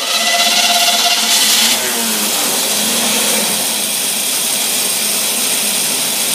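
A greasy used Edelbrock carburetor-equipped engine running on a test stand, giving a loud, steady roaring drone with a hissing high edge, slightly heavier for the first two seconds before settling into an even sound.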